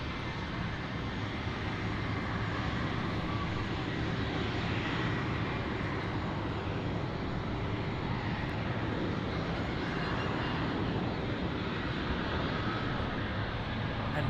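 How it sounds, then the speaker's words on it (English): Lufthansa Airbus A320-200 in old livery arriving from Frankfurt at Munich Airport, a steady, even engine roar with a broad hiss, constant in level and moderately distant. "The Lufthansa A320 arriving from Frankfurt as LH100."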